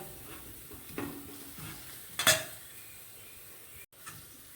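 Wet stirring and scraping of marinated chicken in a bowl, with one sharper clatter midway and a soft knock near the end, no voices.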